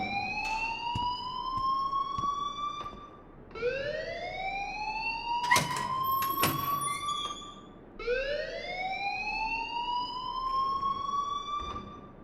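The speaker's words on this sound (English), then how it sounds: "please turn off that alarm" A fire alarm in the video game Life is Strange wails in rising, siren-like sweeps that repeat three times, loud and close, with sharp clicks and bangs in between.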